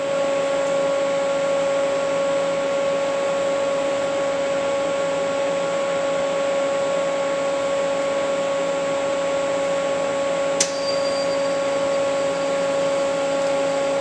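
Refrigerant recovery machine running steadily while drawing refrigerant out of a vehicle air-conditioning system's hoses, a constant motor hum with a strong tonal whine, plus one brief click near the end.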